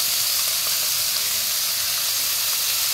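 Small fish fry in a kadai, giving a dense, continuous loud hiss and sizzle with no pauses.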